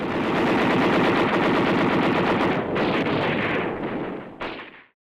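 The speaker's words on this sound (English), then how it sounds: "the Americans set up Browning 30 caliber machine guns" A Browning .30 caliber machine gun fires one long, unbroken rattling burst of about five seconds. It is loud and dense and ends abruptly, with no voices.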